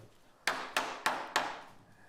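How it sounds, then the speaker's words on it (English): A hammer drives a nail into the end of a mitred maple countertop joint with four sharp, evenly spaced blows, each ringing briefly before fading, close and loud with no talking. "I put a nail right in the end of that 45 to hold that nice and tight"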